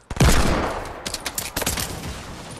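Gunfire in the video game Fortnite: a loud opening blast, then a rapid, uneven burst of shots that trails off, close and alone without talk.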